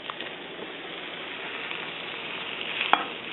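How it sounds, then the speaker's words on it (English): Sausages frying over gas in a cast iron pot give a steady, close sizzle with faint crackles and one sharp pop near the end. "You can hear it sizzling up."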